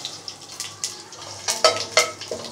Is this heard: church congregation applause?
no